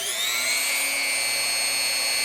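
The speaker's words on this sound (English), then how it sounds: "Let's drill a hole. I have a drill bit in there now." A small DEPSTECH rotary tool whines at high speed drilling a hole, a steady close-up drilling tone that holds level for a couple of seconds with no talking.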